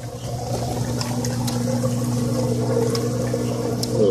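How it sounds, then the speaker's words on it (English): Fish water poured from a barrel aquaponics system into a tank makes a steady, continuous splashing and trickling wash close by, running for several seconds without speech. "put the fish water in the tank"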